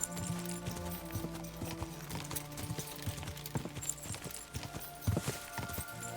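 Horse hooves clip-clop steadily while riding in the medieval game Kingdom Come: Deliverance II, a continuous rhythmic trot close by over a bed of ambient background sound and music.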